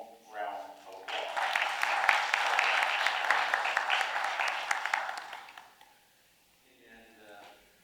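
Warm round of applause from the audience at a Kingman Park award event, a dense, steady burst of clapping lasting about five seconds, with speech before it and again as it fades.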